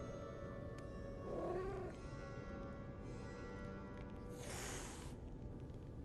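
A cat hisses in the video game Lies of P, a short breathy hiss with a faint meow-like tone, quiet against a low in-game ambient hum and a later soft whoosh.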